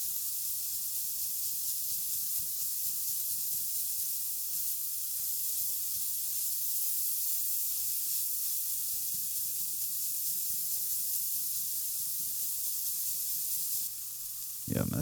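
Ground turkey for chili sizzles in a pan, a continuous, even frying hiss with a low steady hum under it that runs unbroken until a brief clatter at the very end.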